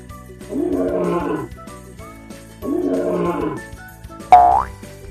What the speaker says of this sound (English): This is a lion. Lion says, roar,